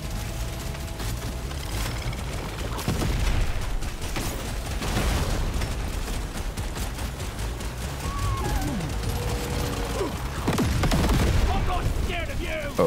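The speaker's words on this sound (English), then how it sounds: "Oh god, the shooting." Dense, continuous rapid gunfire and mechanical clatter in the Deep Rock Galactic: Survivor game, loud and sustained throughout, with occasional sharper bursts and a player talking over it.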